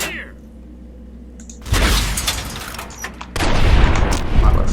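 Gunfire crackles in the video game Fallout New Vegas, with loud bursts of shots and booms following a quieter stretch.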